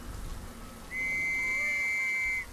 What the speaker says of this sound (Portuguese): Tô ouvindo uns assobios.